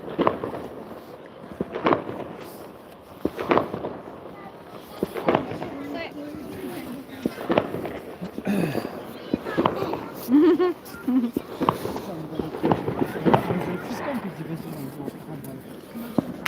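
Firecrackers pop outdoors on a street, sharp scattered bangs at irregular intervals, some near and some farther off, while people talk nearby throughout.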